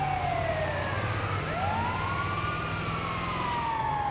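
Ambulance siren in the video game GTA V, a loud continuous wailing tone sweeping up and down over a steady low vehicle rumble, with no one speaking.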